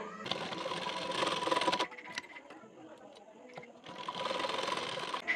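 A sewing machine stitches a tuck into a blouse in fast rattling bursts, running loud for a couple of seconds, pausing amid small clicks and handling, then starting up again near the end.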